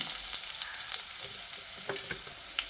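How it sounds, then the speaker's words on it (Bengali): Cut potatoes for a spinach dish fry in a pan with a steady, close sizzle, with occasional faint taps and stirs through the hiss. "এবার আলুটাকে কিছুক্ষণ ভেজে নেব।"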